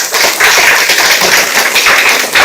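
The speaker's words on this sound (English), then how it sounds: "And a big round of applause for Jyoti and Shruti" Audience applause after a yoga performance at a Republic Day celebration, a loud, dense wash of many hands clapping continuously from start to end, close and filling the room.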